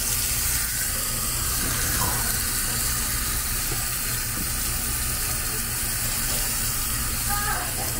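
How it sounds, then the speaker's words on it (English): Water running steadily at a restaurant's outdoor foot wash station in Aruba, an even rushing hiss with no breaks, sustained throughout. "they have a foot wash station here"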